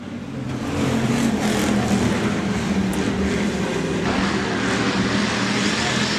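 USRA Hobby Stock race cars roar around Rapid Speedway during green-flag racing in a B feature, a loud, continuous engine drone filling the whole stretch with a faint voice underneath.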